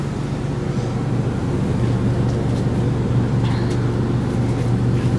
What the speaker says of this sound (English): You guys probably didn't know I had the generator running.